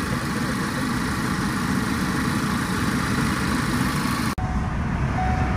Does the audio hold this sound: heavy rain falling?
no